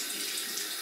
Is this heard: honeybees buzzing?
no